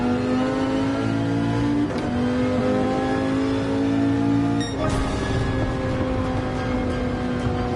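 A Dodge Viper SRT in Gran Turismo 7 online racing, its engine holding a steady, loud, buzzing drone at high revs, with a brief dip and gear change before climbing again, no talk.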